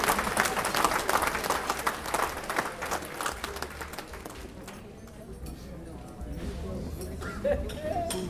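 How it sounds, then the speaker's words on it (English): Diners at a banquet give dense, close applause that fades after about four seconds, followed by quieter room noise and a few clinks. "Let's give them a final round of applause."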